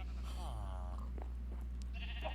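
A Minecraft sheep lets out a single wavering bleat near a pen, clear but fairly quiet over a steady low background hum, followed by a few soft game noises.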